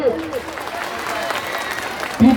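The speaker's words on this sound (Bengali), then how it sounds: "জোরে হাততালি" At a school farewell celebration in Sahabajpur, Kaliachak, the audience breaks into sustained applause after a dance performance, a dense clapping wash with a brief voice rising at the end.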